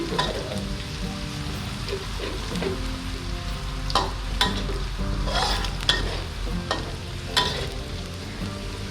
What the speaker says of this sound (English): how long we're frying it? Until you will see the garlic changing colors